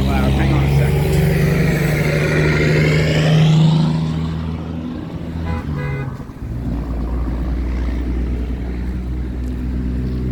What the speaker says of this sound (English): now the truck's going to be loud